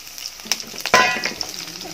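Chopped shallots, ginger and slit green chillies hitting hot oil for a thattukada-style egg curry, a bright close sizzle with a sharp spatter burst in the middle, no voices.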